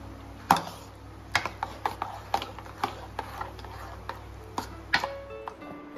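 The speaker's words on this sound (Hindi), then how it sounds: "अब मैं मूंग दाल को स्पून से अच्छी तरह मसलूंगी, मसल कर स्मूथ पेस्ट तैयार करूंगी।" Cooked moong dal being mashed with a spoon, a series of sharp, irregular clicks and taps of the spoon against the vessel, close and fairly quiet.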